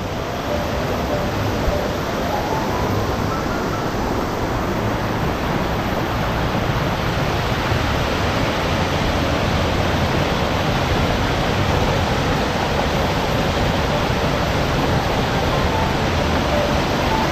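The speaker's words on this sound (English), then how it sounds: "certainly now it's started to rain" Steady rain falls at Ton Tae Waterfall in Trang, Thailand, as a dense, even hiss that continues without a break throughout and may blend with rushing water nearby.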